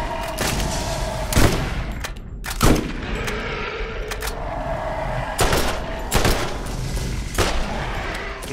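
Gunfire in Borderlands, played as Brick: several sharp, loud shots spaced unevenly over a steady background rumble.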